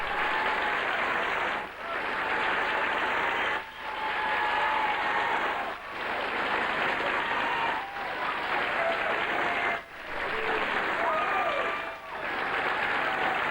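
Studio audience applauding loudly and steadily for Rod Stewart at a 1984 Los Angeles television interview, dense sustained clapping with brief dips in intensity, no talk over it.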